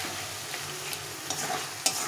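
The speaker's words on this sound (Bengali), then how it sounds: "জলগুলো দিয়ে এটাকে ভালো করে কষিয়ে নেব।" A meat-dish masala with water added is sautéed in a pan, giving a steady, close sizzle with light stirring and a sharp spoon knock near the end.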